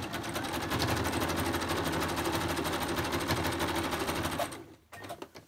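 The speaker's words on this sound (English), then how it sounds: "I'm going to stitch those together because I like those. Let's go zigzag down the center." A domestic sewing machine running steadily while zigzag stitching down the center of chunky fabric pieces, a loud, continuous rapid rattling hum for about four and a half seconds before it stops, followed by a brief clatter.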